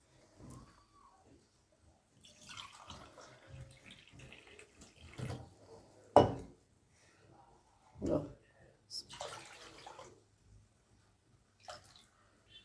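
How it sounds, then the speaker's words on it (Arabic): Two cups of water are poured from a cup onto two cups of sugar in a pot for syrup, giving short splashing pours between quiet pauses, while someone speaks softly. "أنا نزلت بكوبايتين سكر بالكوباية دي، وهنزل بكوبايتين مية."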